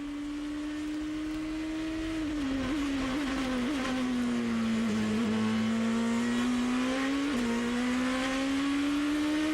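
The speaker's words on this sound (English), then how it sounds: "We expect this kind of nose-to-tail and wheel-to-wheel racing in GP2" A 2006 GP2 race car screams past at full throttle on the Turkish circuit, its high engine note rising and dipping through gear shifts, with other cars faint behind it.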